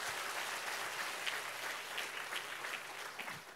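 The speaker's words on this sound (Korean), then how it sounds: "자, 박수 한번 해주십시오." Congregation applauding during a Korean church healing service, a steady, dense wash of clapping from many hands that fills the whole stretch without pause, with no talking over it.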